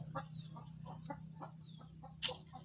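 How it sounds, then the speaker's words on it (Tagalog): Chickens cluck in a steady series of short calls over a low constant hum, with one sharper, louder squawk near the end. "May ang ingay ng manok."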